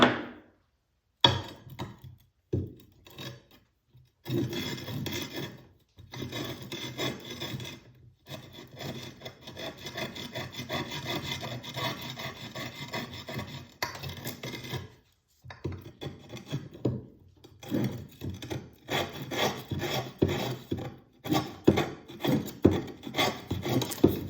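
A plane iron or chisel is being sharpened on 80-grit abrasive in a Rockler sharpening kit, giving loud, gritty rasping strokes in long runs that are broken by short silent pauses.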